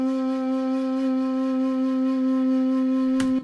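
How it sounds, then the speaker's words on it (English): A Japanese shakuhachi flute patch from Logic X plays one long, steady sustained tone with little movement, clear and alone, ending abruptly with a short click. "there is a Japanese shakuhachi flute on Logic X, but it sounds like this"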